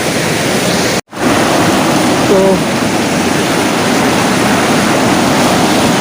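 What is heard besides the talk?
fast-flowing river water at Rudraprayag Sangam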